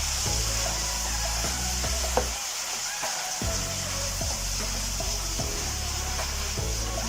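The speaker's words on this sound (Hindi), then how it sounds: "और अब हम पालक को भून लेंगे।" Spinach for palak gosht sizzles and fries in a pot, a steady hiss with occasional scraping stirs and clinks of a spoon, close by, with no talking.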